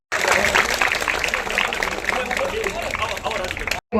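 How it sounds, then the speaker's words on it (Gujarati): Dense, steady applause from an audience at a Women's Day award and employment ceremony in Nari village, sustained clapping that fills the whole stretch before cutting off abruptly near the end. "આપણે સૌ આપણી તાળીઓ ચાલુ જ રાખશું તાળીઓનો ગડગડાટ"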